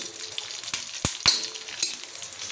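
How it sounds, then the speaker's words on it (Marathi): Green chillies and garlic frying in a little oil on a flat iron pan, a soft steady sizzle broken by a few sharp clinks and stirring scrapes, close and alone. "थोडंसं तेल टाकून तव्यावर परतवून घ्यायचं आहे"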